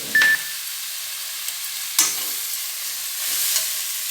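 Chillies, green chillies, coriander seeds, sesame and cumin hit hot oil with a soft, faint sizzle broken by a few clinks of stirring in the pan.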